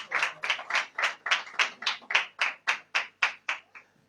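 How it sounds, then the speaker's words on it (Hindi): Congregation at a church service clapping in unison, about fourteen evenly spaced, crisp claps in a steady rhythm, moderately near and fairly quiet, with no talking over them. "तो खुदावंद के कलाम के लिए फिर जोरदार तालियां भी बनती हैं,"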